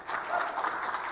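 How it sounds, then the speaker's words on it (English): A brief, light scattering of clapping from a small audience, modest and fairly even throughout. "a smattering of applause, we can say."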